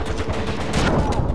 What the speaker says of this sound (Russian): Они выстрелили в ящик с патронами, и он взорвался.